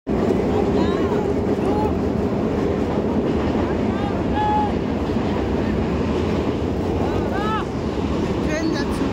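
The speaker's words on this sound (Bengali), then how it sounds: "ট্রেন যাচ্ছে।" A train rumbles past close by at Prayagraj during the Maha Kumbh 2025 gathering, a continuous heavy roar with wind buffeting, while several people talk over it.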